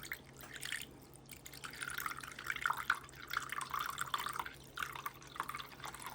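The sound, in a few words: water poured into a pan over turkey wings and drumsticks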